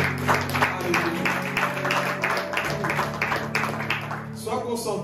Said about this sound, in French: Je dois acclamer la parole de Dieu.